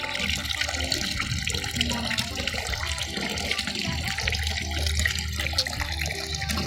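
Water pouring and splashing as the water in a soaking tank is changed, a continuous rushing gurgle with sloshing and dripping, close and fairly loud, with no speech.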